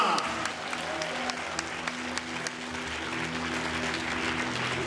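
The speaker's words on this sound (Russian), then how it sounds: "аплодисменты бойцам!" Applause from a crowd at a fighting bout, a steady wash of clapping with a few sharper claps standing out, continuing under a low hum of the room.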